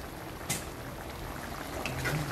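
Soft, steady bubbling and simmering of pork kaldereta stew in a pot, with a faint clink near the start.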